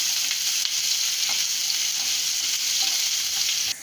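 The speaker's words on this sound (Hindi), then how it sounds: "बे लीफ डाल दी है और 1 हाफ प्याज डाल दी।" Half an onion and a bay leaf frying in hot oil, a dense continuous close sizzle with light crackle throughout, cutting off abruptly at the end; no speech.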